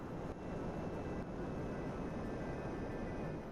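A small plane in the video game GTA 5 drones steadily with a constant engine roar throughout, loud and close, with no talking.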